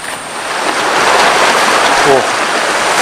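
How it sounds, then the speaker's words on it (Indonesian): A fairly large river flows in a damp forest area, a steady broadband rush of moving water that stays loud and continuous throughout, with a faint voice briefly audible near the end. "Nah ini teman-teman, sungainya nih lumayan sedikit besar."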